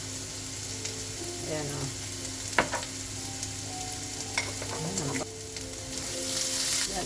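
Chicken nuggets browning in butter with thyme sizzle steadily in a pan, with a few sharp clinks of a utensil and a brief spoken word over the frying.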